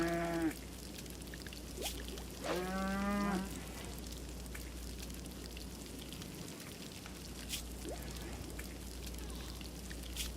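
Cattle in a colony simulation video game moo twice in quick succession near the start, a short low call followed by a longer drawn-out one, then fade into a quiet, steady background hum.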